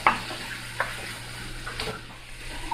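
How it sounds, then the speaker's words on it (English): Fresh tomatoes and onions sauté in a pan with a soft, continuous sizzle, broken by a few light scraping clicks of stirring; quiet and close, with no talking. "So I'm adding in my fresh tomatoes now and onions to this, and then I'm going to stir this"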